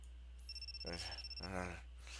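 A phone rings in a video game: a steady electronic tone followed by two pulsing, warbling ring bursts, fairly clear against a low constant hum.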